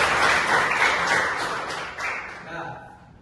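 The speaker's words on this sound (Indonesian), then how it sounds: "Tepuk tangan buat kalian." A classroom of students gives a short round of clapping that starts full and tapers off over about three seconds, with the group's noise thinning toward the end.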